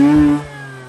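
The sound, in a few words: Mazda RX-8 rotary engine revving up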